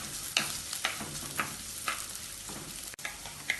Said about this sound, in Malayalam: ഇത് ഇളക്കി വഴറ്റാം.